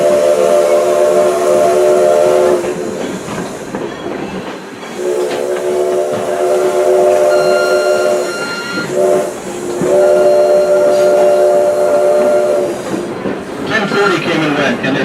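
A steam locomotive whistle on the South Simcoe Railway sounds three loud, long blasts separated by short pauses, with hissing steam and a voice speaking in between.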